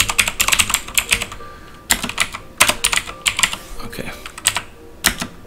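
Close, clattering computer keyboard typing in uneven bursts and single keystrokes while setting up a VM/370 mainframe configuration, with a voice briefly speaking.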